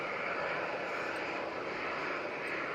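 A propeller airliner lands in strong wind, its engine drone and rushing wind noise forming a steady, fairly distant roar with no breaks.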